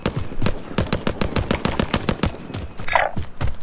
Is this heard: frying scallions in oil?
no